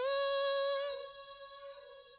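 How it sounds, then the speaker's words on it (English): A sustained tonal vocal note rings out and echoes, trailing off through a repeating delay and a soft reverb tail. "it's almost like a dub delay kind of sound with a little bit of reverb."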